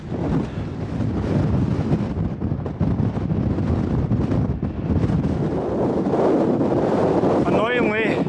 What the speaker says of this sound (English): It's a bit windier than expected.